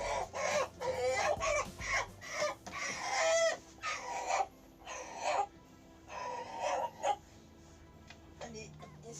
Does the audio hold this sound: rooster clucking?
yes